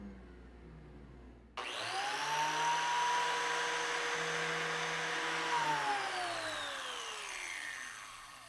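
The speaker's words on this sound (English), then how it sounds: "We cut the rabbit at the router table using our 2-flute carbide bit." A router table cuts a rabbet in mahogany or maple stock with a 2-flute carbide bit: the motor whines up to a steady high pitch, holds loud and close for several seconds, then the pitch falls as it spins down.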